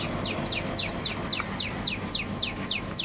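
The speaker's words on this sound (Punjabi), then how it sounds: "ਬੋਲ ਰਹੀ ਆ ਕਿੰਨੀ ਮਿੱਠੀ ਆਵਾਜ਼ ਆ ਇਹਦੀ ਚਿੜੀ ਦੀ ਬਿਲਕੁਲ ਛੋਟੀ ਜੀ ਚਿੜੀ ਆ" A tiny sparrow on a rooftop garden chirps in a steady series of about ten quick, high, bright calls, evenly spaced and close, over a low background hum with no talking.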